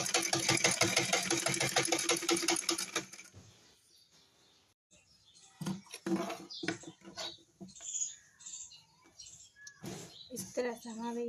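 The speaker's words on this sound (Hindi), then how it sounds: "ये हम आसन की सिलाई कर रहे हैं" A sewing machine stitching a seat cushion for trousers runs in a fast, steady whir for about three seconds, then stops; faint handling clicks and rustles follow.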